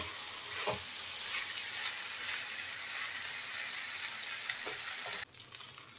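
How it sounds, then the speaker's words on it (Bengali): Rice and lentils frying with spices in a pan for bhuna khichuri, a steady close sizzle with stirring scrapes throughout, no voices. "মশলার সাথে আমি চাল ডাল খুব সুন্দর মতো ভেজে নিয়েছি"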